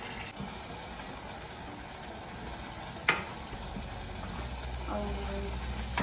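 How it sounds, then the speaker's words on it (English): Water pours into a cooking pot of okra on a home stove, a steady hissing fill over low kitchen background noise, with a short clatter near the middle and a duller pouring tone toward the end. "Adding some water."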